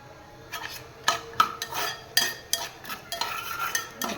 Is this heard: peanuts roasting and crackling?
yes